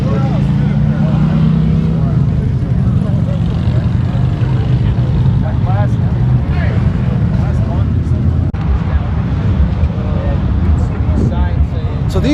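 A loud HP4 motorcycle engine runs close by with a steady, throaty drone that never lets up, and people talk over it.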